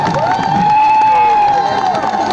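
A crowd at an election campaign event welcomes guests with sustained cheering, shrill ululation and clapping, loud and close, with a steady high warbling tone running through the whole stretch.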